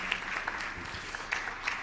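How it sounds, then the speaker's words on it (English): Brief, faint applause rises from an audience at a sports career fair and symposium in Nairobi, a soft patter of clapping with a few sharper claps standing out. "One more round of applause for Mohammed"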